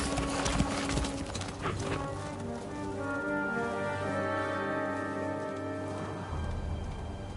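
A horse's hooves in Kingdom Come: Deliverance II clip-clop at a steady walking pace against a low, sustained musical drone, the footfalls faint and regular throughout.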